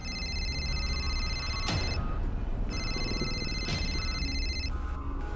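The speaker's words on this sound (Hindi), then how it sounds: "किसका फोन आ रहा है?" A telephone rings in two long electronic bursts separated by a short gap, loud and close over a low background rumble.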